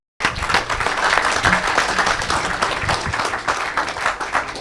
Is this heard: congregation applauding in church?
yes